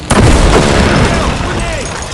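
A grenade explodes in a World War Heroes video game, a single close, loud boom with a rumbling, crackling tail fading over about two seconds.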